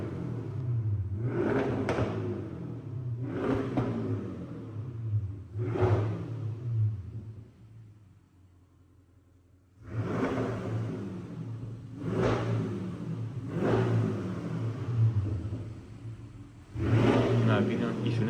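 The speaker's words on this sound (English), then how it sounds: "And also just listen how it's sounding. The exhaust is a little bit modified," An Audi 4.0 TFSI V8 with a lightly modified exhaust revs repeatedly, several sharp throttle blips rising and falling, with a short idle pause midway, loud and close.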